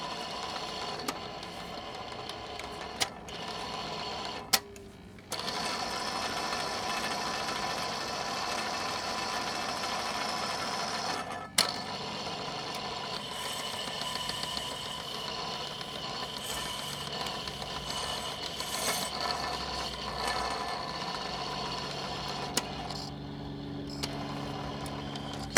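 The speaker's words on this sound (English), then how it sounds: "that grinding is that dry roller" A dry roller grinding in a 1960 Webcor AM phonograph console, a steady mechanical whir and rasp running the whole time with a few brief dropouts and clicks, close and continuous, no talking.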